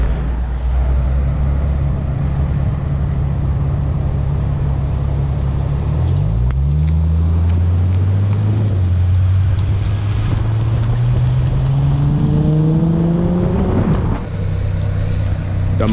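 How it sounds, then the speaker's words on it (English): A salvaged, previously wrecked Ford Mustang driven home on the road, its low engine rumble rising through the gears over heavy wind buffeting, with pitch climbing in sweeps before easing back. "My brother's gonna drive the Mustang to my place."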